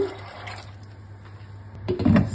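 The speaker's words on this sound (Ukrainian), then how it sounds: "Заливаємо холодною водою" A quiet stretch gives way to a short, gushing rush of cold water near the end, poured into a pot of beans.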